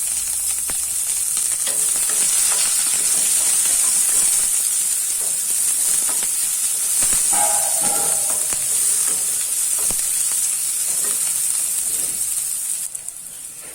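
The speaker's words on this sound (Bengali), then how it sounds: "প্রথমে পেঁয়াজটাকে ভেজে নিচ্ছি।" Chopped onions frying in a pan after mustard seeds and white cumin, a loud continuous sizzle and hiss with occasional stirring scrapes, close up and without talk.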